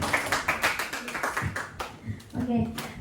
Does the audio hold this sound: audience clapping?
yes